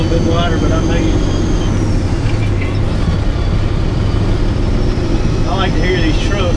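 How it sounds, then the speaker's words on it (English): A Peterbilt heavy-haul truck engine runs with a loud, steady low rumble that dominates throughout, with road and cab noise mixed in. "I like to hear these trucks run"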